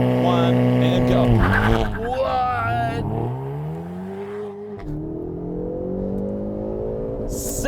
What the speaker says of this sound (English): I then put it into first gear. I keep the clutch pedal in. I then go full throttle.